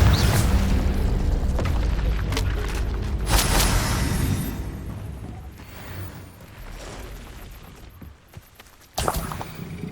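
Booming spell blasts and rumbling magical impacts from the video game Hogwarts Legacy, including a Confringo explosive spell. Several loud hits come in the first half, then quieter rumble, and a final sharp burst near the end.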